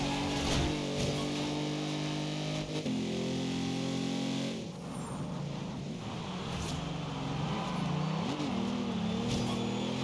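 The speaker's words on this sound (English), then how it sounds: "the supercharger noise this thing makes" A supercharged car engine in Forza Horizon 2 drones loudly and continuously, with pitch shifting between steady revs and a brief dip, carrying a high whine throughout.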